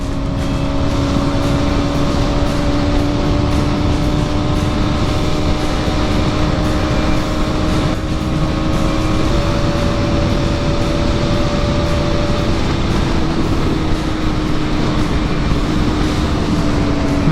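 A motorcycle accelerating with the throttle opened while overtaking on a group ride, a steady loud engine drone with a rising hum and heavy wind rush throughout, with no talking.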